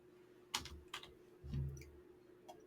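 Several sparse keystrokes on a computer keyboard as an address is typed in, close and quiet, with a soft thump partway through and no talking.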